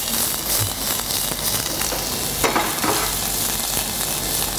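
Garlic and shallots frying in a pan, a steady close sizzle and crackle with occasional stirring scrapes, continuous and fairly loud with no talking.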